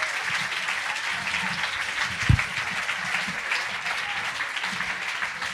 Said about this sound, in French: encore un tonnerre d'applaudissements parce que c'est une véritable performance